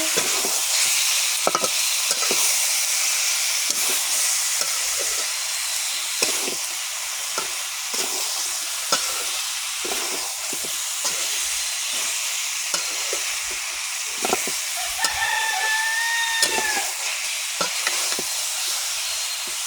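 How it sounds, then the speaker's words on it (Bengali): Mutton fries in a pan with oil, a continuous close sizzle broken by repeated scraping and clacking as a spoon stirs the meat, with no one talking. "মাংস আমি আবারও ভালো করে নেড়ে দেবো, নেড়ে নেড়ে কষিয়ে নেব।"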